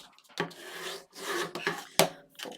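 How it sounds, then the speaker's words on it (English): Paper being folded and burnished with a tool while building a Halloween-themed paper folio, giving close, dry scraping and rubbing strokes in several bursts with a sharp crease snap near the end. "So again, fold and burnish."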